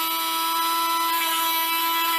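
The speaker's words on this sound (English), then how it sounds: "right now I'm just going to basically lightly sand down the joints" A rotary tool lightly sands the joints of a custom Marvel Legends Deadpool action figure, giving a steady high-pitched whine that holds close and loud throughout, with no talking.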